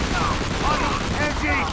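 Sustained machine gun fire in Call of Duty: World at War, a dense continuous clatter through the short moment, mixed with battle noise and shouted voices.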